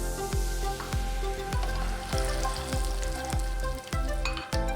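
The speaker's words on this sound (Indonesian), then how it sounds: "Untuk saus kacangnya, goreng 200 gram kacang tanah," Peanuts fry in hot oil for a peanut sauce, giving a steady close sizzle and crackle with faint stirring, set against rhythmic background music.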